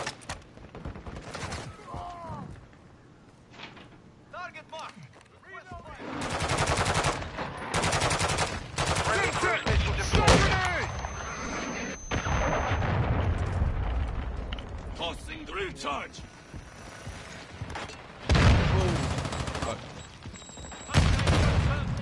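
Unsuppressed gunfire in a first-person shooter, loud cracking bursts and volleys scattered through the stretch, some heavy booms among them, interleaved with a player talking.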